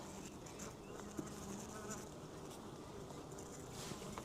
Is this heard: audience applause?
no